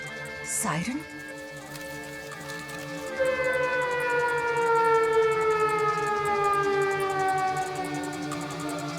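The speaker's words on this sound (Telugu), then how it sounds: "సైరన్?" A civil defense siren holds a steady, slowly falling wail over a layered low drone, with a short shout at the start and faint voices beneath.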